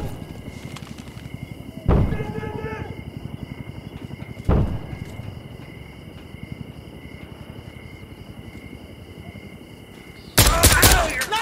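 Gunfire at night in the video game Insurgency: Sandstorm: two heavy isolated shots, then a loud burst of rapid fire near the end, over a steady rhythmic insect-like chirping background.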